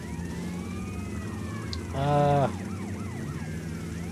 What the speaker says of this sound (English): All these sirens are annoying.